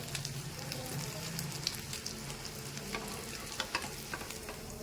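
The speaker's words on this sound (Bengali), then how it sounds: "পুরো একদম একদম মুচমুচে করে ভাজবো" A tomato and egg paratha fries in a pan until crisp, with a steady close sizzle of hot oil, a few light scrapes and taps of a spatula, and no voices.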